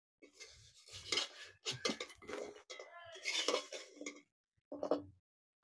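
Plates and metal utensils clink and clatter in short close bursts as sugar-syrup-coated gaja sweets are moved onto a plate, with brief pauses between the bursts.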